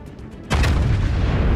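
Yamato battleship main guns firing in the World of Warships naval video game: a sudden loud, heavy boom after a quiet half-second, followed by a sustained thunderous rumble that fills the rest of the clip.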